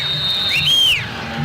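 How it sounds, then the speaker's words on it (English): A football coach at a Mexico–Brazil Copa America 1999 semifinal whistles orders to his players from the touchline: one loud sustained whistle followed by a rising-and-falling swooping whistle, heard over steady stadium crowd noise. "Mexican coach La Fuente whistles his orders"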